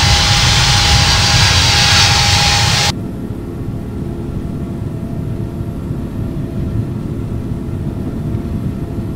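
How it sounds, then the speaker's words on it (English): Sustained roar of a Virgin Atlantic jet's engines on the takeoff roll at London Heathrow in Infinite Flight, a loud broadband rush with a steady whine, then abruptly dropping to a quieter, duller engine drone. "Romeo is taking off runway 27 right, departing north."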